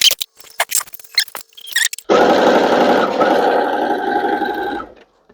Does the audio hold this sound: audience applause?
no